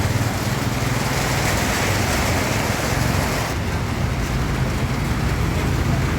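Rain falls steadily outdoors at dawn with a broad, continuous hiss that holds even throughout, masking softer background sounds.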